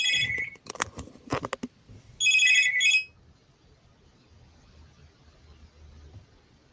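A telephone trills in one short electronic burst of rapid high tones, loud and near, after some clicks and knocks, then the room falls to a quiet low hum.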